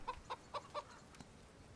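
Chickens cluck in the Medieval Frontiers farming game, four short evenly spaced clucks fairly close over a faint steady background, then quieter.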